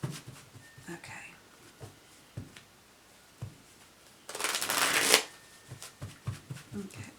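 An Intuit Oracle card deck gives one dense, crackling shuffle burst lasting about a second, close and fairly loud, surrounded by quiet handling taps and light rustles.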